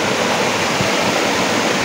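A mountain stream flows through the jungle, its rushing water a steady, dense wash that stays close and even throughout, with no voices.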